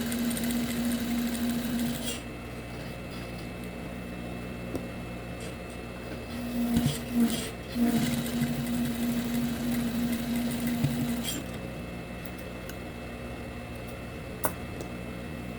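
A sewing machine runs a topstitch along the edge of chita print and raw cotton fabric, a steady close mechanical whir with a brief pause midway and then a second louder stretch of stitching before it stops.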